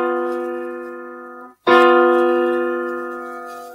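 A dissonant combination of musical notes associated with the devil, the tritone, rings out as a sustained organ-like chord, is cut off briefly, then sounds again and slowly fades.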